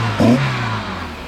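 A carbureted Toyota TE27 Corolla engine gives a single quick, close rev that rises sharply and then settles back to a steady idle.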